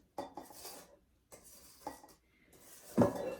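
Oatmeal raisin cookie dough with cinnamon being stirred in a bowl, heard as a few short scraping and clinking bursts of a utensil against the bowl, close and fairly quiet, with pauses between strokes.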